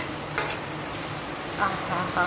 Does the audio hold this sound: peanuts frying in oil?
yes